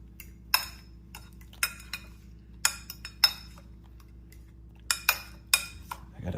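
A spoon mixes banana oat mug cake batter with egg in a mug, making sharp, irregular clinks and taps in short bursts against a quiet background.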